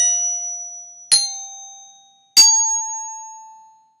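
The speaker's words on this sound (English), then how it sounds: "It's almost as if you are pulling the sound out of the bells as you strike the mallet" A mallet strikes the metal bars of orchestra bells twice, each bright ringing tone hanging and slowly decaying over a lingering earlier note, clear and close.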